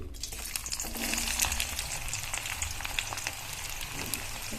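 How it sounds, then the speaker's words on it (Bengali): Chopped onions hit hot oil for matar paneer and set off a loud, dense, continuous sizzle and crackle that stays close and steady throughout. "সো প্রথমে আমরা নিয়ে নিচ্ছি পেঁয়াজটা আমরা ঢেলে দিই।"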